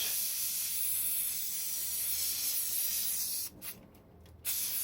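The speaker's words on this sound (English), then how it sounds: "then you move this 180 degrees the other side and you spray it" A steady, close hiss of aerosol spray paint coating model metal railings that runs continuously, then cuts out in short bursts near the end.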